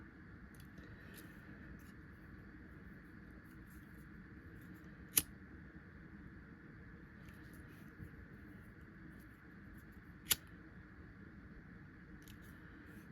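Scissors trim the tattered edge of a paper piece for a small handmade junk journal, giving faint, close snips: two sharp distinct cuts stand out over a quiet background hiss, with softer small clicks scattered around them.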